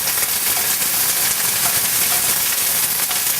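Loud, continuous sizzling and crackling of water droplets hitting a hot pan, a dense hiss with scattered pops, close and without any voices.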